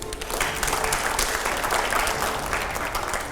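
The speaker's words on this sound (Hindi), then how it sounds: "जोरदार तालियां बजाइए एक बार।" Enthusiastic applause from a studio audience at a televised political panel with Priyanka Chaturvedi and editors, a full, steady wash of many hands clapping together for a few seconds.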